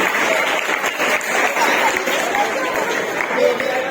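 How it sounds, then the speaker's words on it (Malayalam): Audience clapping steadily at a church Christmas night celebration as prizes are announced, a dense roomful of hands with murmuring voices mixed in. "കൈയടിക്കോ കൈയടിക്കോ"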